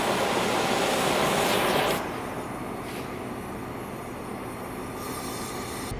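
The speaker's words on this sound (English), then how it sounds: "It doesn't necessarily look like the propane is burning out of all the holes, but it's burning out of enough that it's a pretty good flame." A propane fire pit burner roars with a steady broadband rush of flame, loud at first and then settling to a lower, even hiss that continues without a break.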